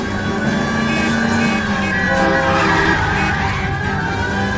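A car in the video game L.A. Noire is driven recklessly in a chase, its engine roaring steadily and tires skidding and squealing, loud and continuous throughout with no talk.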